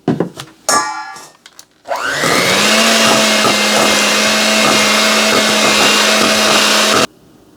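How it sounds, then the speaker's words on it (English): An electric mixer beating chocolate cake batter with milk and vanilla, a few knocks and clatters first, then a loud steady motor whir running for about five seconds before cutting off. "And I'm just going to beat this up."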